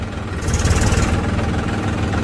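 A Massey Ferguson tractor with a super shuttle drive, its diesel engine running with a loud, steady low rumble and a slight rise in revs early on, heard up close with no speech.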